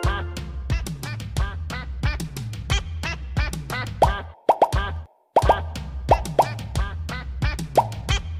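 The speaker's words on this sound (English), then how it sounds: "This is a duck." A cartoon duck quacks over and over in a steady bouncy rhythm, each quack paired with a plopping beat, loud and close. The sound breaks briefly near the middle before resuming, and no voices are heard.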